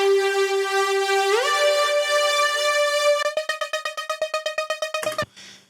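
A synth lead from a melodic techno track, first sustained and smooth with a pitch glide upward, then turning into a rapid rhythmic pulse near the end before cutting off, with no voices.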